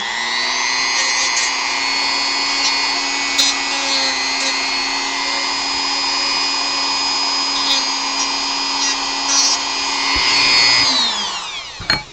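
A handheld rotary power tool chamfering the edge of a carved Final Fantasy V model part, a steady high whine held for several seconds before winding down at the end.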